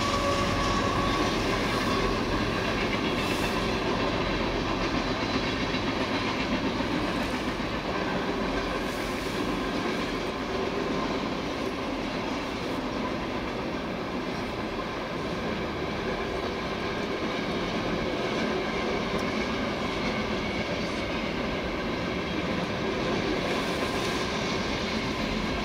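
A CSX coal train rolls steadily past close by for the whole stretch, with continuous wheel rumble, rail clatter and occasional squeal, and no voices.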